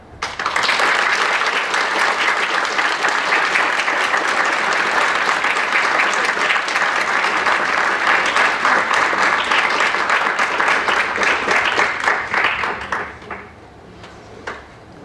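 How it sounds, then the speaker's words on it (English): An audience gives the panelists of a student debate one last round of applause, with loud, dense clapping sustained for about twelve seconds before tapering off. "Give all the panelists one last round of applause."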